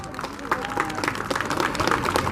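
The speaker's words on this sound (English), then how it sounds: "Give them a round of applause." A crowd breaks into steady applause, many hands clapping together in a dense, continuous patter for a couple of seconds.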